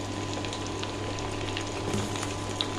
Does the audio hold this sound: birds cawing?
no